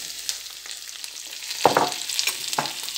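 Leek leaves, kaffir lime leaves and lemongrass hit a pan of frying garlic, giving a steady close sizzle with a few louder crackling bursts as they are stirred in, with no talk.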